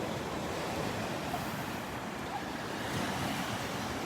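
Ocean waves break onto a North Naples, Florida beach, a loud, steady roar of surf with wind buffeting the microphone and no one speaking.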